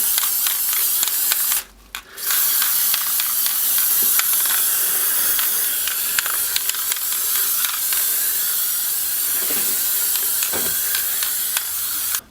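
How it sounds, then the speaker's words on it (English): An aerosol can of black plastic primer hisses steadily in a long continuous spray over a model spider, briefly stopping once before resuming, close and fairly loud. "I'm going to spray a coat of black plastic coat primer over the whole spider."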